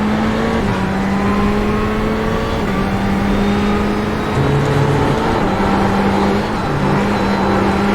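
A Ferrari GTE race car engine in iRacing on the Nürburgring GP circuit drones loud and steady, its pitch shifting slightly through gear changes, without talking.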